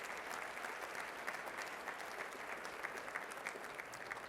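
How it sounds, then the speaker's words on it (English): A luncheon audience applauds its sponsors with an even, distant wash of clapping that holds steady throughout. "So now give me a big round of applause for all of our incredible sponsors."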